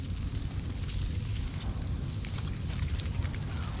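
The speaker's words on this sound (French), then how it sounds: "Oh mais il y a le feu partout, il y a des gens en danger et tout." Fire burning across a scene in the video game Broken Ranks, a steady broad roar and crackle with a low rumbling undertone, continuous and fairly loud, with no voices over it.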